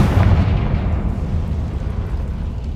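A Confringo explosion spell bursts in a Harry Potter video game, a loud, close blast that rumbles and fades away over a couple of seconds.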